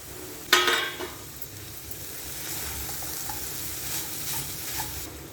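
Chopped vegetables and a handful of finely cut coriander tipped into a hot pan for rava masala idly, landing with a sharp clatter, then a steady sizzle and frying hiss with faint stirring.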